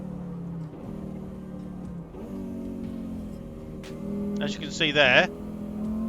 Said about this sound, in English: Nice sounding engine anyway.